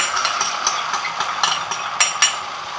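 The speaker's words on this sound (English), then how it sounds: "we're going to fry our eggs as you see here" Eggs fry in butter in a frying pan, a soft continuous sizzle with light crackles and a few brighter pops, no talk.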